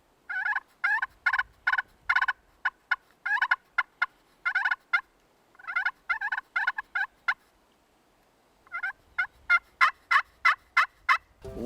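Hand-held turkey call imitating a wild turkey's purr, rapid clucking trills in quick clustered bursts, close and clear, with brief pauses between runs and a longer gap before a final series.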